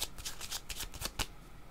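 Tarot cards are shuffled by hand in a quick riffling burst of crisp, close flutters that ends in a sharper snap, with no talk over them.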